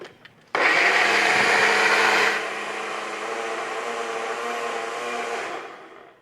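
A blender whirs loudly as it purees a broccoli cream soup, starting abruptly at full speed, then settling into a steady, slightly lower drone before winding down.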